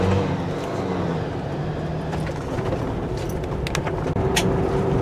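A 2018/2019 Jeep Wrangler rolls slowly over a rough road full of washboarding, dips, bumps and rocks, a steady close engine and road rumble inside the cabin with occasional rattles and knocks.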